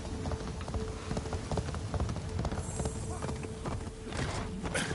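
Horse hooves clip-clop steadily in an open-world video game, a rhythmic trotting beat over ambient wind and rain-like noise, fairly near and continuous.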